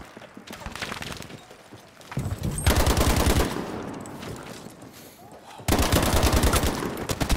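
A light or medium machine gun fires in Battlefield 5: loud, rapid automatic bursts in several sustained stretches, separated by quieter gaps, with close gunfire over battlefield noise.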